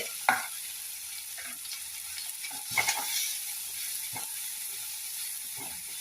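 Tomato with curry powder and turmeric sautéing in a pan, a steady frying sizzle with several clanking stirs of a spoon against the pan, close and moderately loud.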